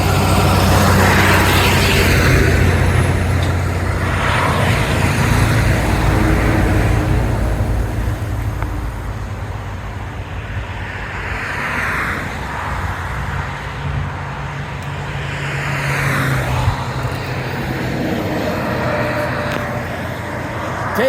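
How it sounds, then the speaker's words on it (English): Heavy traffic on a four-lane road crossed on foot during an Appalachian Trail thru-hike: a loud, steady roar of nearby vehicles, with several distinct whooshing passes rising and fading as cars and trucks go by. "This traffic is not going to cut me any slack."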